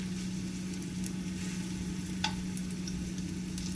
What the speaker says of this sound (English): I'm just taking a spoonful out and dropping it in my oil